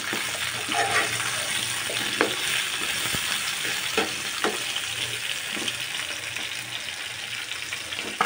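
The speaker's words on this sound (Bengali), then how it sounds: "এখন আলু আর বেগুনকে ভেজে দেব" Potatoes and eggplant fry in hot oil with a continuous close sizzle, punctuated by occasional stirring clicks and scrapes.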